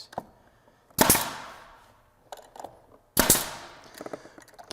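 A pneumatic nail gun fires two sharp shots into glued wooden assembly parts, each a loud crisp bang about two seconds apart, with faint handling clatter between them.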